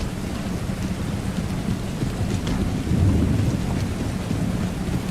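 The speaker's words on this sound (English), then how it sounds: "He's lucky it's a really rainy day here in Georgia" Steady heavy rain with a low rumble of thunder on a battlefield in Georgia in the Total War: Empire video game, a continuous dense wash that swells slightly midway, with no talking.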